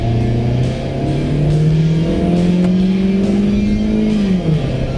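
A Proton Saga's 1.3 litre Campro engine revs under acceleration, its tone climbing steadily and loudly before a brief dip and rise near the end.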